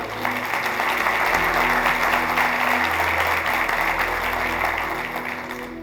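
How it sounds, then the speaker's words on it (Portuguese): Steady, full applause from a church congregation during a worship service, dense and even throughout, with a faint low hum underneath. "Dê um aplauso ao Senhor."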